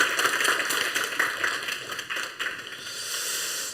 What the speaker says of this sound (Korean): 우리 환영하면서 우리 박수 한번 하겠습니다.